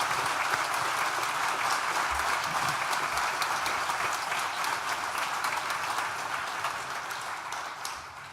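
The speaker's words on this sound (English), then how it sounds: "please now join me once again for a big collective round of applause" A large audience at a 2018 university graduation ceremony for a School of Social Sciences claps in a dense, steady roar of applause that sustains throughout and tapers slightly toward the end, with no talking.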